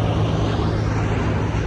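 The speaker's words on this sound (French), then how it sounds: "Voilà l'avion qui a atterri" A landing airplane's engines roar loudly and steadily close by in a Los Angeles area setting, a broad constant rumble with no break and no voices.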